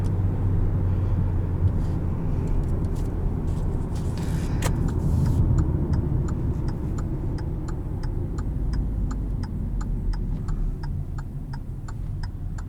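A 2018 Hyundai Tucson SEL is heard from inside the cabin as it drives in drive mode, with a steady low road and engine rumble running throughout and a faint, regular turn-signal ticking joining partway through.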